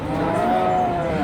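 At a cattle market in Jatirogo, a cow gives one long, loud, close moo that holds steady for its whole length, with no talk over it.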